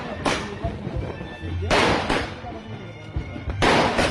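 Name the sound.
firecracker bomb explosions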